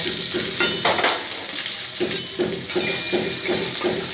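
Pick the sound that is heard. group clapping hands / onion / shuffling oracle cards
onion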